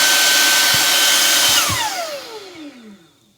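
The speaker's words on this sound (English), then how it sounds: "One more click turns it to high speed" A Nicebay cordless handheld vacuum runs at high speed with a loud, close, steady motor whine, then switches off and winds down, its pitch sliding lower as the sound fades over the last two seconds.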